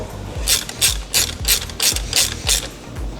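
A ratchet wrench tightening a 13 mm bolt on a turbo inlet of a 2008–14 Subaru WRX, rapid clicking pawl strokes in a steady back-and-forth rhythm of about eight pulls, loud and close with no talking.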